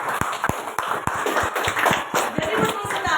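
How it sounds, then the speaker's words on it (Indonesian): Applause for a student group in a classroom: a burst of scattered, uneven hand claps from the class that continues for about three seconds, with some voices mixed in. "tepuk tangan untuk kelompok 1"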